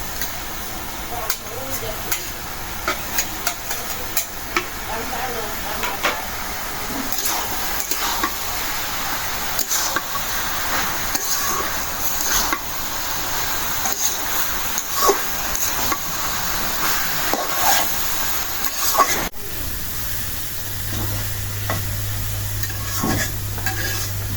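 Prawns frying in a pan, with a steady sizzle and constant stirring scrapes running throughout, up close and loud, as a voice speaks over parts of it.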